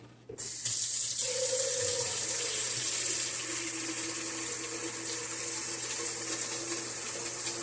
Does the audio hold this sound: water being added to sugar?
yes